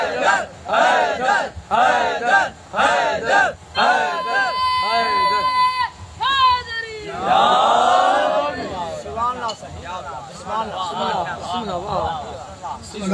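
Congregation at a Markazi Imambargah majlis chanting "Haidar" slogans in rhythmic loud bursts, repeated call-and-response shouts with a sustained wail in the middle, a preacher's amplified voice between chants.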